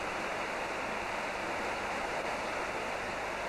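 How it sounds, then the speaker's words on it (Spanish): River water rushes steadily where part of the flow splits off into an irrigation channel, a dense, constant roar with no voices. "Aquí tenemos un punto del río en que hay una separación de parte del caudal para formar una acequión, una acequia o una aceña"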